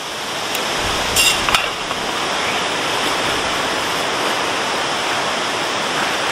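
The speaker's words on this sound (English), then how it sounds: "That's definitely rain." Rain falling steadily at a wild camp in bad weather in the UK, a dense, even hiss of water, loud and continuous, with a few brief knocks near the start.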